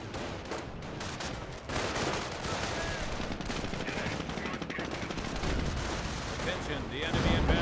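A mortar impact amid steady rattling machine-gun and rifle fire in Company of Heroes, a dense, loud, continuous battle din with bursts layered on top.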